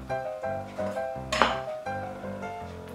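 Knife and utensils clink and scrape against a plate in steady, ringing taps while a piece is sliced off a juicy, lean pork sirloin tip roast.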